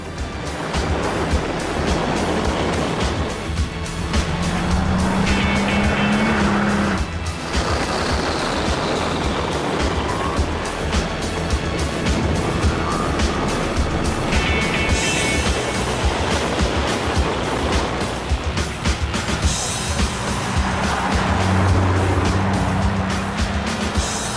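A powerful AMG car is driven carefully in Gran Turismo 5 at the Goodwood Festival of Speed, its engine droning loudly and continuously, rising and falling with gear changes and throttle, with no talking.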